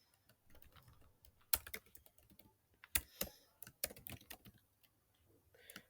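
Programming code typed on a computer keyboard, quiet and close, with irregular clicking keystrokes and a few sharper key strikes scattered through.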